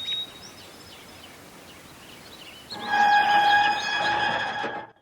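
A steam engine train screeches to a stop over pipes toppled across the tracks, a faint rumble giving way to loud, sustained high-pitched squealing with steady whistle-like tones lasting about two seconds before fading.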